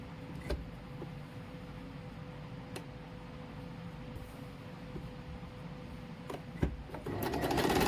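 A sewing machine stitches a suit panel with a strip laid along its right side, running at a steady close whir with a few sharp ticks and a louder burst near the end.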